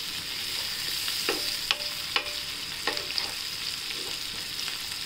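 Ground masala paste frying in a pan, a soft steady sizzle broken by several sharp scrapes and clinks of a spoon stirring against the metal.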